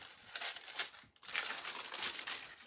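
Floral tissue paper crinkles and rustles as it is cut to size, in two short, quiet bursts of crackling separated by a brief pause.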